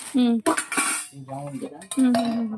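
Steel idli plates and other steel kitchen vessels are handled in a Bangalore kitchenware shop, giving loud, close metallic clangs with ringing, sustained tones between the knocks.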